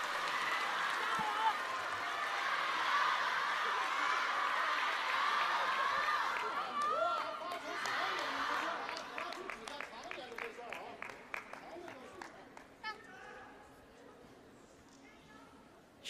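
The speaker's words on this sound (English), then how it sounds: "Big roars of delight from the crowd and from the Chinese pair" A large crowd at a China Smash table tennis doubles match roars and cheers loudly, then breaks into clapping that thins to scattered claps, with a commentator talking over it.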